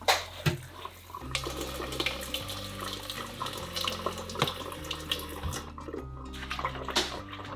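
Tonkotsu pork bones rinsed under a running kitchen tap, water streaming steadily into a sink with clunks and knocks of the bones shifting, over a background of soft music.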